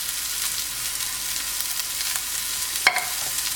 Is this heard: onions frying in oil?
yes